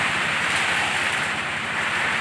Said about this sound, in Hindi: बारिश भी बहुत तेज़ हो चुकी है